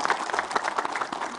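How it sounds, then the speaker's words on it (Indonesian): A studio audience at a religious talk show claps for a woman's question, a short burst of scattered, uneven hand claps, moderately loud. "tepuk tangan buat Ibu Mariam pertanyaannya."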